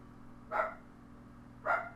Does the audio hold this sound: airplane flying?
no